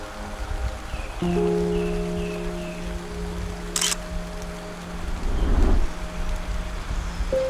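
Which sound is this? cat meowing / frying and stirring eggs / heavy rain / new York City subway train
heavy rain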